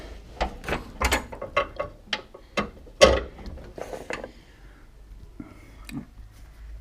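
A ride-on mower's cutting deck is eased upward during an overhaul, giving a series of close metallic clicks, clunks and ratcheting knocks in an irregular rhythm, louder in the middle then tapering off.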